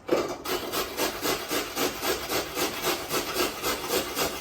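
Steady back-and-forth rasping of food being grated on a kitchen grater for a fruit salad and spinach stew meal, about nine even strokes in a regular rhythm, close and fairly loud, with no talking.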